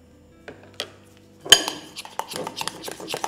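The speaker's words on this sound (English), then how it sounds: "add just a little bit into one of our Swiss meringue buttercream batches and just stir that to combine" A spoon or spatula stirs Swiss meringue buttercream in a bowl, tapping and scraping against the sides in a series of close, clinking knocks, with quiet gaps between them.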